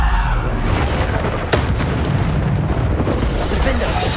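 A Bombarda spell in Hogwarts Legacy bursts into a loud booming explosion with one sharp crack, set inside a dense, continuous roar of combat noise, with a voice calling out over it.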